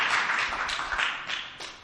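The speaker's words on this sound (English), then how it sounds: "That deserves some claps right there" Audience applause at a live tech event in Los Angeles, a steady wash of many hands clapping from a crowd, moderately loud and continuous for a couple of seconds with no talk over it.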